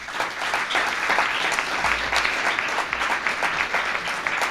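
An audience applauds at the end of a talk on climate justice, a dense, sustained burst of clapping from a sizable crowd that holds steady throughout, with no voices.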